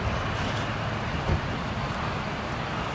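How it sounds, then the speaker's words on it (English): Heavy vehicles rumble past in a continuous low roar, like trucks rolling by close on a road, with no talk. "Some fucking army trucks"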